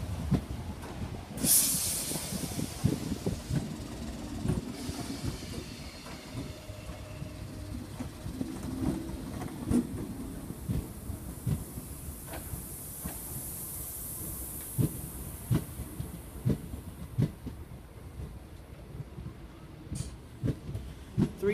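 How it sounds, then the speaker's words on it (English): British Rail Class 322 unit 322481 draws slowly into platform 6 at Doncaster station: a steady rolling rumble with rhythmic wheel clicks over rail joints, a sharp brake hiss near the start and a rising airy whine, fairly close, with no speech. "about to put into platform 6 at Doncaster is 322481"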